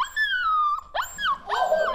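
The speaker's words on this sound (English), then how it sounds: "Practicing his howling already." An Alaskan tundra timber wolf pup whimpers and howls close by in three thin, wavering rising-and-falling cries, the last one breaking into a squeaky yelp.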